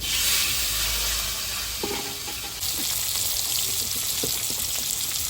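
Black cumin and sliced potato frying in hot oil in a Bengali fish curry, a loud steady sizzle that surges as the potato goes in, with a few stirring clinks.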